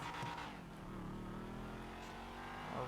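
A 2015 BMW F82 M4 engine revs while driving, giving a loud, close mechanical roar that holds steady and then rises sharply again at the end, with no talking.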